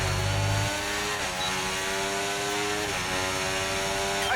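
Formula 1 car engine in the racing game F1 24, a steady droning whine with layered harmonic tones that sustain under a brief low thump at the start and shift slightly in pitch partway through.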